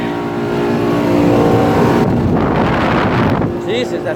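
A running central air conditioner unit blowing hot air outdoors, a loud, close, steady roaring whoosh of the fan with a low mechanical hum and some wind buffeting on the microphone.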